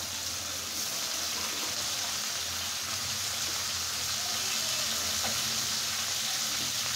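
Potatoes fry in a pan of hot oil, giving a dense, continuous sizzle that stays loud and even throughout, with an occasional soft stir.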